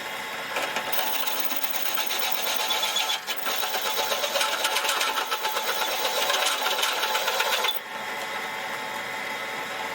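A drill press motor whirs steadily with a grinding, rasping bite as a bit cuts into material, then eases off near the end.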